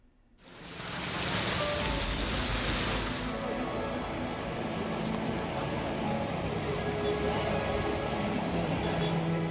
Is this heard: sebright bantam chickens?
no